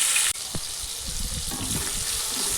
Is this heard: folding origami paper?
no